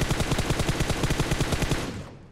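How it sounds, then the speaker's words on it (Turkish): Rapid automatic gunfire in PUBG Mobile, a loud close burst of about twenty evenly spaced shots in quick succession that cuts off and tails away into a brief echo. "Gördüğünüz üzere mermi atıyorum, kaçıyorum."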